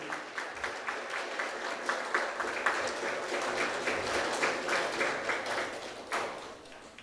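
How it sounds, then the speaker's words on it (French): Applause at an installation ceremony for a new director general of civil protection: a fairly faint, uneven round of clapping from the audience that continues steadily, with a few louder individual claps rising above it. "Sous vos applaudissements, mesdames,"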